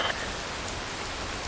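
Steady rain pours onto surfaces, a dense, even hiss that fills the clip without pause, heard alone with no talking.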